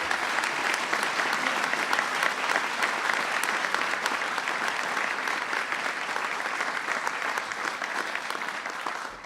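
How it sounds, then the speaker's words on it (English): A crowd applauds steadily for Terry Shima, a World War II veteran of the 442nd Regimental Combat Team, with dense, sustained clapping at an event observing Diwali that fades slightly toward the end. "Please give him a big round of applause."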